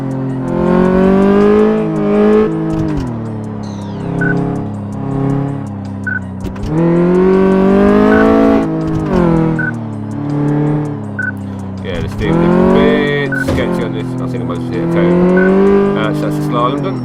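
A video-game car weaving through a slalom course in Car Mechanic Simulator 2014, its engine droning loud and steady, rising and falling in pitch with each turn and shift, while someone talks over it.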